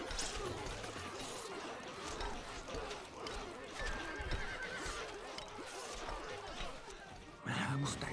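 A horse whinnies amid hoofbeats and battle ambience in the video game Stronghold: Crusader, the neigh standing out over steady clip-clop and background game sound, with a short burst of voice near the end.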